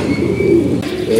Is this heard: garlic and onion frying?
no